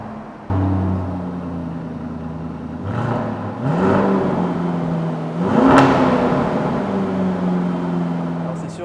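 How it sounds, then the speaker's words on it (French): A Lamborghini Urus SUV's V8 engine starts up into a steady idle, then gives two rising revs that swell and fall back, loud and close with no talk over it. "Il suffit de soulever la petite gâchette et d'appuyer sur le bouton Stop Start pour allumer"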